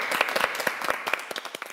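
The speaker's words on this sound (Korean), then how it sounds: "우리 스스로에게 한 박수 한번 드리도록 하겠습니다" A small group applauding at a church-related youth program, a short patter of distinct claps, fairly close and moderately loud, thinning out toward the end.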